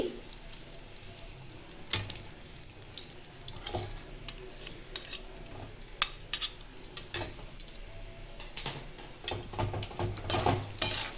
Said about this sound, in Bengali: ঘি দিয়ে একটু নাড়াচাড়া করে আমি নামিয়ে নেব